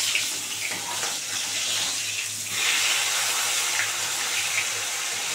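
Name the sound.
fish frying in hot oil after being flipped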